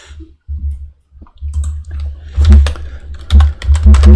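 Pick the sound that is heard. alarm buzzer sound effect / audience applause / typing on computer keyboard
typing on computer keyboard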